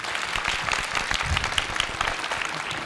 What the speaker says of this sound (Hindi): पहले तो राजीव जी के लिए तालियां बजाइए।